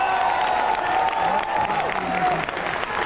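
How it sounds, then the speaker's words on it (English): Dense crowd applause fills a tennis stadium after the Kournikova vs Capriati match in Hong Kong in 2001, steady and sustained for a few seconds, with an announcer's amplified voice faintly underneath. "One more round of applause,"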